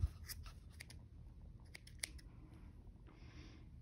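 Scissors snip yarn ends off a paper plate craft, a few sharp close cuts spaced irregularly in a quiet room, followed by a soft rustle near the end.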